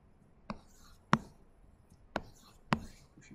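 A lecturer writes on a board during a lecture on pipelined ADCs: four sharp, separate taps and scratches spaced about half a second apart, quiet and close.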